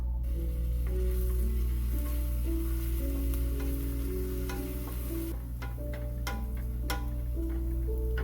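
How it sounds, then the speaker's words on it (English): Garlic sautés in hot oil for sausage fried rice, a loud continuous sizzle with occasional stirring clicks over a steady background hum, close by and without talk. "Okay, so right now I'm going to saute the garlic first"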